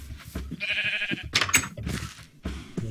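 A Minecraft sheep bleats in a wavering, drawn-out call, followed by further short animal cries and clicks, close and clear against the game's background.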